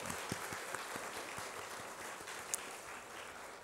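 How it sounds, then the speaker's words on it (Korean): A church congregation applauds after the choir's hymn at a Sunday service, a soft, diffuse clapping heard from a distance in a large hall, with a few sharper individual claps standing out near the start. "감사의 박수 한번 더 올립니다"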